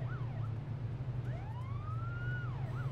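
A video game police siren wails, sweeping up and down over a low engine drone, the electronic tone rising and falling repeatedly with no talking.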